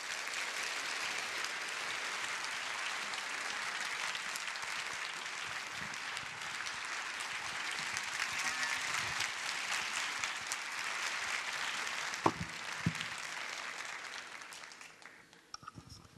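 A church congregation at a Sunday evening youth praise service applauds to welcome the pastor, steady dense clapping from many hands filling the room for about fifteen seconds before thinning out.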